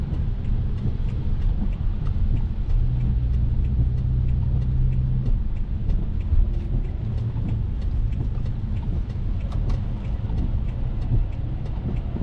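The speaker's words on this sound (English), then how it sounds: "Stuck in traffic now on the way to the gym." Car interior rumble while stuck in traffic, a steady low engine and road drone running continuously at an even, fairly loud level with no talk.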